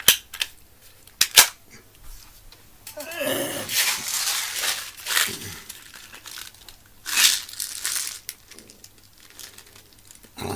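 A BB gun fires a few sharp, snappy shots close by, separated by gaps and scuffling, crinkly handling noise, with no talk between them.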